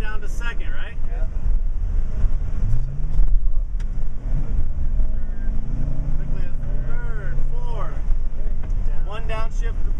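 A TAG go-kart engine whines loudly and steadily on a racing course, its pitch dropping and rising through gear changes, mixed with heavy wind rush while people talk over it.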